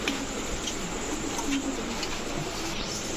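Tiger grizzle racer pigeons, including a hen, coo softly nearby against a constant hiss of background noise, the low calls coming in faint repeated bursts.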